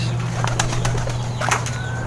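Several quick bursts of wing flapping from pigeons taking off nearby, over a steady low hum, with faint bird sounds.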